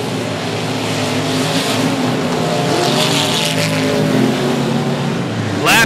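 Race cars roar around a dirt speedway oval, a dense, steady wall of engine drone with overlapping pitches from several cars, loud and continuous, ending with a brief sharp burst.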